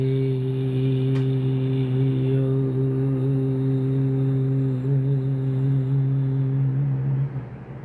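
A light, blended chant of the vowel sounds A, Re, E and O, held as one steady sustained tone for about seven seconds before fading out, with no talking over it.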